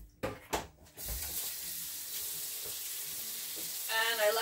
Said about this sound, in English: Let me get this over here and wash my hands again.